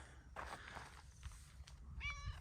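A cat meows a couple of times close by in a garage or paddock while an old Holden HJ wagon is being looked over, the calls faint and set against low rumbling background noise.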